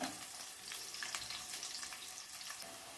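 Onions sizzle and fry steadily in a hot pan for cauliflower fried rice, a continuous crackling hiss with small stirring scrapes, close and moderately loud, no voices.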